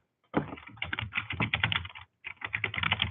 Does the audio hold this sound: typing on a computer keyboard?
yes